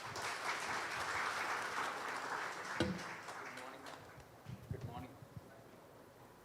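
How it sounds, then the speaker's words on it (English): An audience at a talk on compassion and second chances applauds warmly as a guest speaker is welcomed, a full round of clapping that swells and then thins out, giving way to a voice and scattered noises. "a warm round of applause for Mr."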